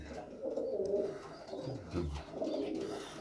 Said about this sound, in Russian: Вот этого голубя.